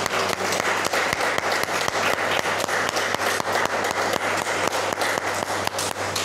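Church congregation applauding during a sermon, loud sustained clapping from many people, with some hands beating a steady rhythmic pulse through the crowd sound.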